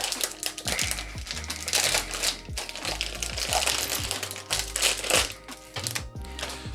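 Cellophane wrapping is peeled and crinkled off an LED light strip box close up, giving a string of sharp crackles and rustles with small clicks, irregular and busy, with no voices.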